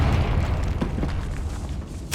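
Confringo blast spell in Hogwarts Legacy, a low rumbling boom that carries through the short stretch over a dense, steady game background, with no clear separate hits.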